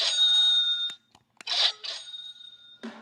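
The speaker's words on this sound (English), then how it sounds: "It is morning bell." Bright morning bell ringing in a few short bursts separated by brief pauses, close and clear with no talk over it.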